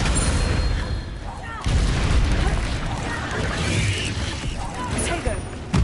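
Spell explosions from Bombarda and Confringo boom and crackle in a Hogwarts Legacy battle, a dense, continuous barrage of blasts and rumbling impacts layered over the game's other sounds.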